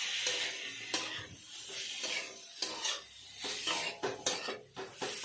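Potatoes and mushrooms are stirred and sautéed with spices in a pan, with repeated scraping of a spoon against the metal and soft sizzling, close and fairly quiet, with no talking.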